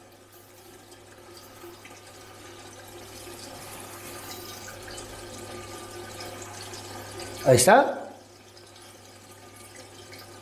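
Water runs steadily as it fills an aquarium nitrate reactor, rising into a brief louder gurgling splash near the end before it stops, with a short spoken remark.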